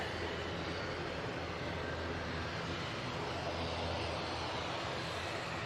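An ATR 72 turboprop airliner departs with a steady, moderately distant engine drone and propeller hum that holds evenly throughout.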